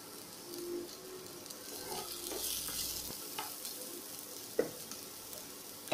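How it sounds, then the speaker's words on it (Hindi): Chopped onion frying in a pan with a steady, low sizzle and occasional soft stirring scrapes, plus a couple of sharp utensil knocks near the end; no one speaks. "प्याज को 2 से 3 मिनट तक हम लोग भून लेंगे, प्याज सॉफ्ट होने तक।"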